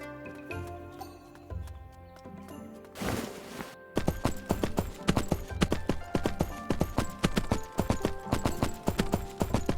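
Horse hooves in the Three Kingdoms video game, at first quieter amid music, then after a whooshing burst becoming loud, rapid, regular clip-clopping of a galloping horse, close and without talking.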